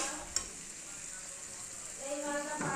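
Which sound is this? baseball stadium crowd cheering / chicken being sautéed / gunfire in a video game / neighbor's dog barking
chicken being sautéed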